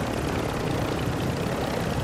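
Helicopter in a shooter video game: a steady, loud, continuous rotor and engine roar filling the whole clip, close and unbroken, with no speech.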